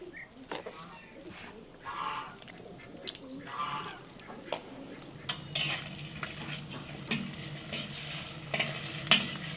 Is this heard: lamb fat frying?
yes